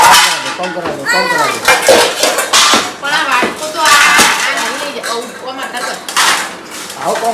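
Dishes and utensils clatter as they are gathered up in a Gujarati home kitchen after a family meal, with children playing and talking loudly over the clinking throughout.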